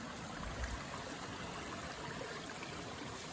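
Babbling brook flowing down a hillside beside a hiking trail, a steady close wash of trickling water with no voices.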